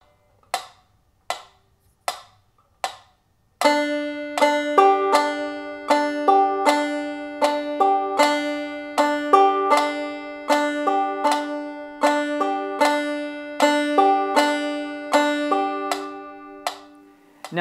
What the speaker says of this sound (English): we're going to play a hammer stroke, and then we're going to follow that with a hammer thumb stroke.